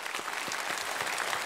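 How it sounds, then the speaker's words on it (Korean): Congregation clapping in celebration during a Korean Sunday worship service, a steady dense wash of many hands applauding together throughout, fairly loud and without talk. "우리 박수로 축하합시다"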